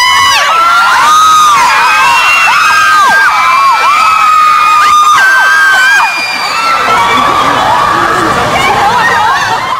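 A crowd of fans shrieks and cheers at a Hong Kong airport arrival, loud overlapping high-pitched screams and whoops rising in waves close by, easing slightly toward the end.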